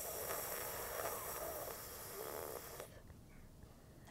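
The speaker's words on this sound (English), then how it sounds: "breathe in through the tongue and exhale through the nose" Breathing from a yoga cooling-breath exercise for hot flushes, air drawn in through the tongue and let out through the nose, as a soft, sustained hissing breath that fades after about three seconds, faint and alone.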